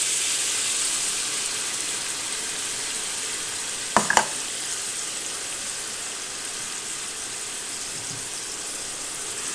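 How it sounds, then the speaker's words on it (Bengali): Steady soft sizzle of chopped onion and garlic frying in oil, with a brief clatter around the middle, no voices. "পেঁয়াজ এবং রসুনটা আমি হালকা ভেজে নেব।"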